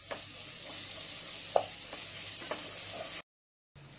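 Onion sautéed with ginger garlic paste sizzles steadily in a pan with faint stirring scrapes, then cuts briefly to silence before the sizzle resumes.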